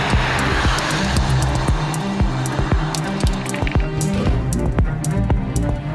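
BMW i4 electric car driving along a scenic road: steady loud road and wind roar from inside or near the car, with repeated soft thumps and clicks scattered through it, no voice.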